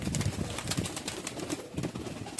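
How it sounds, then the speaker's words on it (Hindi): Flying pigeons, including Madrasi, Tatira and high flyer breeds, coo in a large loft in Panchagaon, Akola district, Maharashtra, with repeated low warbling bursts close by amid soft fluttering and shuffling. "ये देखो सब उड़ने वाले कबूतर।"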